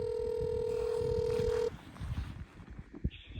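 Telephone call to a police emergency line connecting: a steady electronic ringing tone for under two seconds cuts off, followed by faint line noise, a click and a short higher beep.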